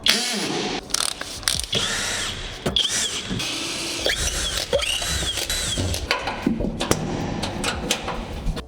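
A ratcheting hand tool turns a spinning bolt while a camper van is taken apart, giving a series of clicking ratchet strokes with metallic squeaks and clunks, close and alone.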